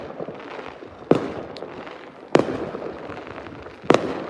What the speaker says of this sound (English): there's a lot of fireworks going on behind me